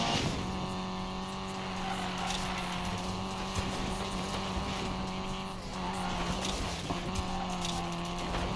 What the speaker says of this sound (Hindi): गाड़ी ड्रिफ्ट करती जा रही है